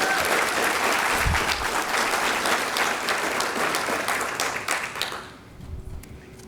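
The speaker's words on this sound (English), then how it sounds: "Give her a round of applause." A crowd applauds warmly at a homecoming celebration for Miss Louisiana 2021, with full, dense clapping that holds strong and then tapers off near the end, leaving a quieter room with a faint hum.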